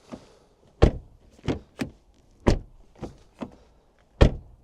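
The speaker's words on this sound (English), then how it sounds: "Let's try the back doors." Car rear doors are opened and shut several times, giving a series of sharp thuds and latch clunks spaced about half a second to a second apart, close and clear with quiet between.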